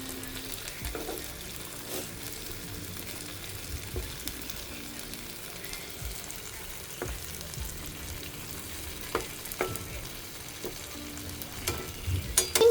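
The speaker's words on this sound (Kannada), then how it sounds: "ಫಿಶ್ ಫ್ರೈ ರೆಡಿ ಆಗ್ತಾ ಇದೆ" Small Mangalore sea fish fry in a pan with a soft, steady sizzle and scattered sharp pops and clicks, fairly quiet and close, with no voices.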